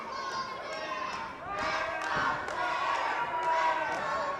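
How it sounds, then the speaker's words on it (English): A wrestling event crowd cheers and roars for Quinn Whittick, a broad swelling noise that rises in waves around ring thuds, with voices shouting over the din. "Crowd now getting behind Quinn Whittick"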